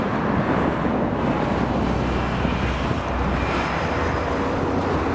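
Strong wind buffets the microphone beside a street overlooking Yerevan Lake, a constant loud low rumble and roar that fills the whole stretch with no speech.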